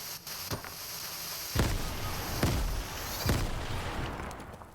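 Grenades blast in a Fortnite match, three or four sharp, loud booms spaced about a second apart, each with a short rumbling tail, over a steady background hiss.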